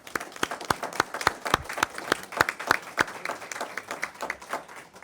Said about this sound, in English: We can give a quick round of applause